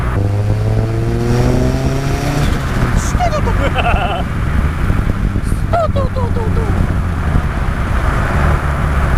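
An RX-5 Turbo car accelerates hard with a loud, continuous engine roar and rising revs under ongoing talk, with brief whooshing turbo and shift sounds mixed in.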